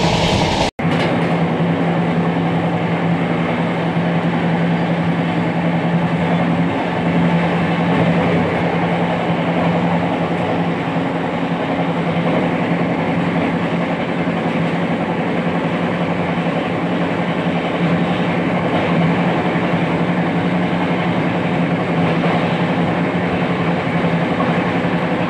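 A Ranchi Rajdhani Express train runs steadily at slow speed while overtaking another train, with a continuous loud rumble and a low hum heard from inside the coach. A single sharp click sounds near the start, and there is no speech.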